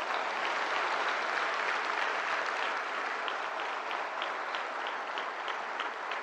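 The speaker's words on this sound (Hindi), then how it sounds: "दिव्यांग के हमारे जितने अवॉर्डीज हैं उनके लिए जोरदार तालियां" A large audience at a skill-development convocation ceremony claps steadily and loudly for disabled award recipients, an even, continuous roar of applause with no voices over it.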